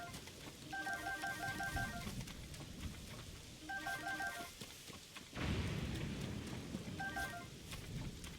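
Rumbling thunder from a lightning storm in Zelda: Tears of the Kingdom, a low sustained roll under steady rain, swelling to a heavier crack-like burst near the end, with faint game chimes repeating in the background.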